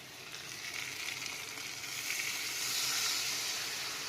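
Fish cooking in a pan with onion and strained mustard paste, a steady close sizzle and hiss of frying that swells slightly louder toward the end, with no voices.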